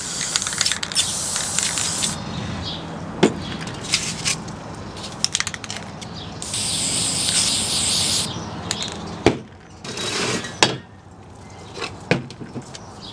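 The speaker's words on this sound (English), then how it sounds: "And paint straight onto it with regular aerosol paint." Regular aerosol spray paint hisses onto EP styrofoam in loud, sustained bursts broken by short pauses and clicks of the can, close up and with no talk.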